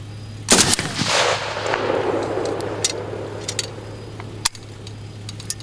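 A 1986 Tula AKS-74u Krinkov rifle fires a short, loud burst outdoors, followed by a long rolling echo and a few fainter sharp cracks trailing off.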